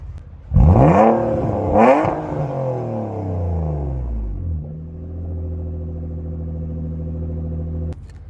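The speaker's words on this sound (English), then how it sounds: "I'm gonna give y'all some exhaust clips" A 2021 Nissan Maxima's exhaust revs hard twice, then the engine drops back to a steady, deep rumbling idle before cutting off with a click.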